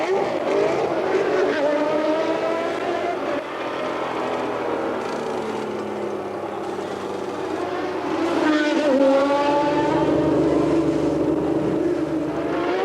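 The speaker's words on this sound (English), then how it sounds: "Then Nigel comes into the pits." A Formula One Ferrari with a broken nose cone enters the pits for repairs and fresh tyres. A loud, high-revving engine whines and drones continuously, shifting pitch, with a commentator talking over it.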